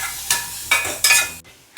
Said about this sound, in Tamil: அது லைட்டாக கிண்டி விடு ஒரு கையில்.